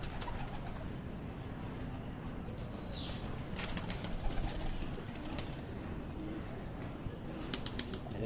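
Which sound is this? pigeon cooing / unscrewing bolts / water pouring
pigeon cooing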